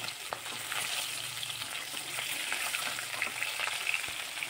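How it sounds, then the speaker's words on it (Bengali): Steady, dense sizzling of katla fish frying in hot oil, with crackles and pops throughout, close and fairly loud, no talking. "তো মাছগুলো এভাবে উল্টে পাল্টে আমি"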